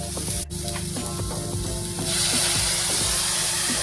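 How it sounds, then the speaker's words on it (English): Thin coconut milk poured into a pot of Kerala-style mutton stew, with a steady sizzle that swells into a louder, broader hiss partway through, close up, while a spoon stirs and no one speaks. "I'm adding the remaining of the thin coconut milk that's left after adding to the meat."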